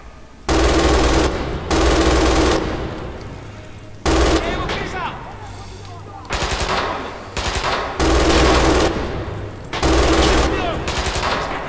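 An MG 42 machine gun in the video game Red Orchestra 2 fires loud sustained bursts, several long roaring strings of rapid shots separated by short pauses and echoing tails.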